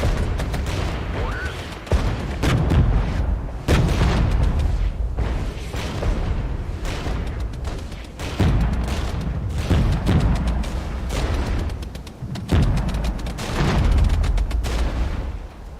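Artillery fire in the Regiments video game, a strategy battle, thuds out in heavy booming volleys every couple of seconds, with rumbling tails and scattered crackling shots between them, while a player talks briefly in the background.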